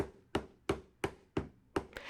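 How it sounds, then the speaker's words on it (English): A hammer taps wooden table legs into glued holes, six sharp evenly spaced knocks about a third of a second apart, close and clear with no talking. "I will plug in the legs gently and use a hammer to hammer them in."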